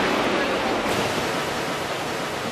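A large waterfall in a canyon in China roars as a loud, constant rushing wash of water, steady and unbroken from start to finish.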